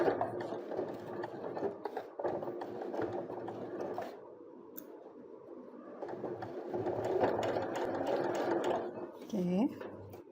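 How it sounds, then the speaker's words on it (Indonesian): Sewing machine stitching through a thick section of fabric, a steady whirring, rattling run that pauses briefly midway and then resumes, close and clear, with a voice speaking at times. "Oke, sekarang kita akan menjahit bagian yang tebal."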